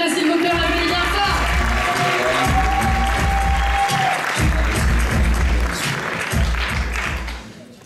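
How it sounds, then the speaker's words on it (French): Loud, dense applause and cheering fill a theatre as a pageant candidate is welcomed, crowd noise and voices mixed in, tapering off toward the end. "On l'encourage, s'il vous plaît, on l'applaudit bien fort."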